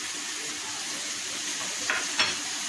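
Spices stirred into a frying vegetable and chicken filling for bread rolls, giving an even, steady sizzle with two short scraping stirs near the end, close and moderately loud, with no voices.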